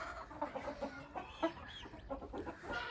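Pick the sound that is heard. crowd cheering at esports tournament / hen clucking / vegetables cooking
hen clucking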